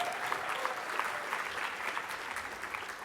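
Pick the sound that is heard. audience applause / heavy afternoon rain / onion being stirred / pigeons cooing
audience applause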